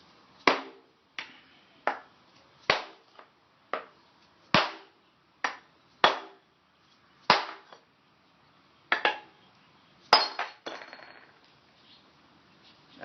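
A chisel knocks against a ceramic tile in about a dozen sharp, separate strikes at an uneven pace, close and clear against a quiet background, ending with a brief scraping rattle.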